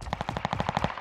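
Rapid, evenly spaced burst of Sten submachine gun fire in Warzone on Rebirth Island, about nine quick shots in one second, loud and close with no talking.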